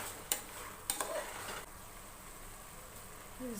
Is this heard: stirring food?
yes